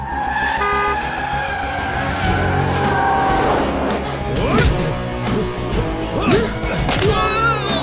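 A car speeds through a film action scene with loud, repeated tire squeals and skids rising and falling over engine noise and background music, close and forceful throughout.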